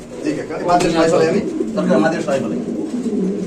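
Pigeons coo at a pigeon seller's stall, soft repeated low calls running throughout under close conversational speech.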